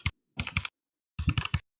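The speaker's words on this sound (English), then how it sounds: "Can you hear the keyboard now?" Computer keyboard with new keycaps typed in two short bursts of quick clacky keystrokes, close and clear, with silence between.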